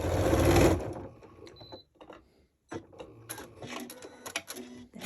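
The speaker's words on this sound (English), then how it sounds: "I'll give it a bit of a back stitch." A sewing machine running a short back stitch: a loud burst of stitching, a pause, then several quick uneven runs of mechanical clatter, close by with no talk.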